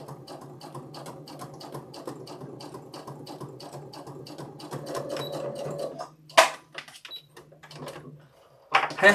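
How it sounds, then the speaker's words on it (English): A sewing machine stitches a seam on a calico puzzle quilt block with a fast, even whirring chatter for about six seconds. It stops, then sharp clicks and handling knocks follow. "there's my first row of stitching down there, down that row"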